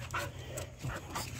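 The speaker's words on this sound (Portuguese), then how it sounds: "Olha os outros latindo lá." Dogs pant and whine close by, with a few soft, breathy canine sounds rising over a low rumbling background; no clear sharp barks stand out.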